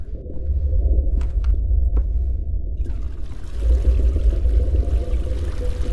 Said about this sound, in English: What? I hear water.